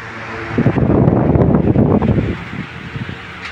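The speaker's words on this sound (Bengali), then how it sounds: "ফ্যানটা ঘুরে ঘুরে আপনাকে বাতাস দিচ্ছে।" An 18-inch Vision oscillating stand fan runs nearby, giving a broad whooshing rush of moving air that swells and fades as the head sweeps, with no talking.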